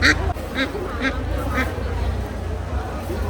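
Ducks quack in a few short, nasal bursts over a constant buzzing, busy background, with a voice talking along.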